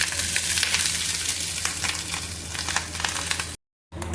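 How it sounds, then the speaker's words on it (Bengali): Cooked rice tossed into hot oil, giving a broad continuous frying hiss with light stirring clicks, close and fairly loud, breaking off into a brief silence near the end before resuming. "তেলটা গরম হয়ে গেছে, এবার আমি 1 ভাগ ভাতটা আমি দিয়ে দেবো।"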